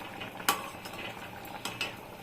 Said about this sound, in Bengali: এই যে ঝোল পুরো ফুটে গেছে, এই অবস্থায় আমি মাখনাটা দিয়ে